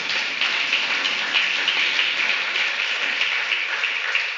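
Church congregation applauding during a Sunday service: a steady, bright wash of many hands clapping at once, even and sustained for several seconds, fairly loud with no speech over it.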